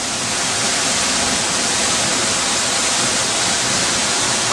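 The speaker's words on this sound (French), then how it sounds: "Voilà la cascade dans le parc du volcan Rincón de la Vieja." Steady, dense roar of a waterfall in a deep, enclosed gorge in Rincón de la Vieja volcano park, Costa Rica, loud and close, with continuous rushing water and no voices.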